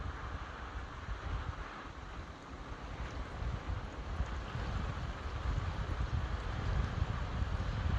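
Strong tropical storm gusts from Hurricane Melissa in Jamaica roar against the microphone, a rough, surging wind rumble that swells and builds louder toward the end.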